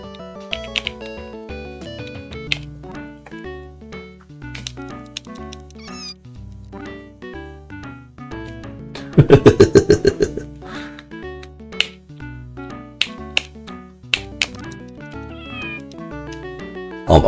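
Digitized cat meows from the SNES game SimAnt repeat over a busy, plinking chiptune soundtrack, with a cluster of louder, harsher cat cries partway through, all close and synthetic.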